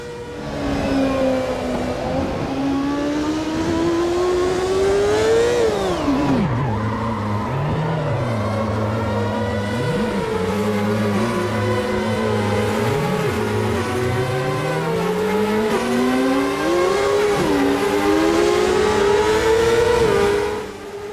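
A race car engine in the Automobilista 2 racing game roars loudly and continuously, dipping as the throttle eases off around corners and climbing back through rising revs, with no talk.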